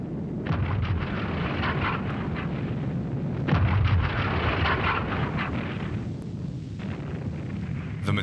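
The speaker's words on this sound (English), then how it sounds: "US artillery had been relentlessly shelling the town of Dueren for days." US artillery shells the town of Dueren, a loud, dense, continuous rumble of distant firing and explosions that never lets up, with no talking.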